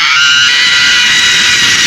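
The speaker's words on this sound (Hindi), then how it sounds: "उसे वहाँ किसी के चीखने की आवाज आती है" A loud, sustained scream rings out at night in the Bollywood horror film Raaz, a high, harsh cry held steadily for about two seconds without a break.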